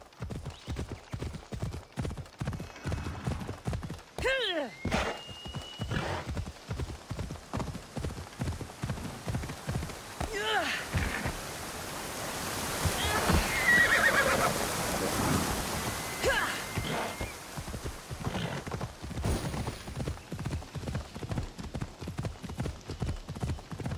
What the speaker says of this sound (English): Riding Phobos goes much better than riding horses in Red Dead Redemption 2